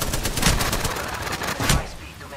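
Apex Legends gunfire crackles in short, ragged bursts of shots, fairly close and loud, with a sharper burst near the end and a thin game background in between.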